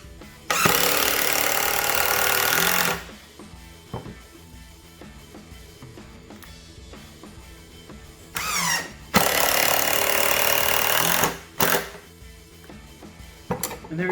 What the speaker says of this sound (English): I can drive these 2 screws so that I end up in this board down here, and I don't have to drill them at an angle